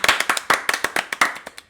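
A few people clap for a podcast guest in a small studio, a short run of sharp, close, separate hand claps in an uneven rhythm.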